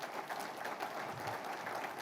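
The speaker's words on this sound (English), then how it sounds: "How about a round of applause for Steve as well?" An audience claps together at a chamber of commerce annual membership meeting, a steady, even wash of applause lasting a couple of seconds, moderately quiet and without talking.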